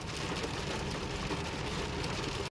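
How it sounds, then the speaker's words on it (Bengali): Heavy rain drums steadily on a car while driving a rough, waterlogged road with near-zero visibility, a dense continuous roar with no gaps or talk. "মারাত্মক বৃষ্টি হচ্ছে, মারাত্মক বৃষ্টি হচ্ছে।"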